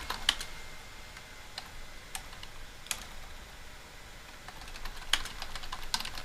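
Someone types a sentence on a computer keyboard, giving light, quiet, irregular key clicks at close range, with a few sharper taps in between.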